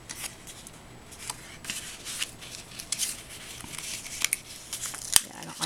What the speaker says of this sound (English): I try to rip it up, it's going to rip up the paper